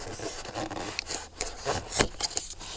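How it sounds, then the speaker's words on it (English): Close, dry scratching and rasping as styrofoam is scraped away from an insulated concrete wall form, coming in short uneven strokes with a few sharper scrapes, with no talking. "I can actually scratch away a little bit of styrofoam to reveal that."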